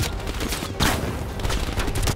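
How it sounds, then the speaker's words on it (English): Gunfire in Call of Duty: Black Ops Cold War rings out as a dense volley of sharp shots and bursts over a steady loud game background, with one particularly strong crack early on. "Hey, someone is shooting."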